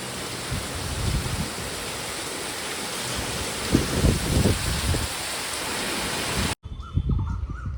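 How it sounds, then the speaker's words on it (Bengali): Heavy rain pours steadily in a dense, loud roar, with a few heavier bursts partway through and a brief cut near the end. "প্রচুর জোর বৃষ্টি হচ্ছে।"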